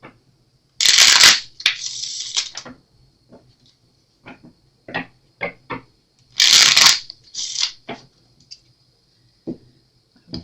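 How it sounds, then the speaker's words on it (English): Two bursts of a tarot deck being riffle-shuffled, each a quick crisp flutter of cards, followed by scattered soft clicks and taps of cards being handled. "Just shuffle this real quick."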